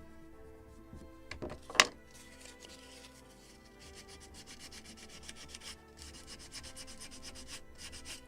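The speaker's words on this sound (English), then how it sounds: "usually I'm sanding along with fibers" Sandpaper rubbing along the grain of a wooden midship deck on a model gunboat, a steady soft scratchy hiss with one sharp knock near the start, close and fairly quiet.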